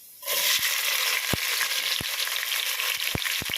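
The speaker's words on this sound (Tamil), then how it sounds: "இப்போ வந்து நான் இந்த சோம்பு, பட்டை எல்லாமே அதில் போட்டேன். நல்லா பொரியுது." Fennel seeds and cinnamon fry in hot oil with a loud, steady sizzle, punctuated by a few sharp pops and taps near the pan, with no talking.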